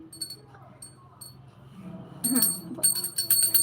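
A small bell rings in short bursts during a Hindu aarti at a home shrine, faint at first and then louder and more continuous, with quiet voices in the background.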